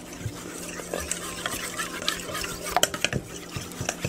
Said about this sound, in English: Not really scrambling it, really this is beating since we're not cooking.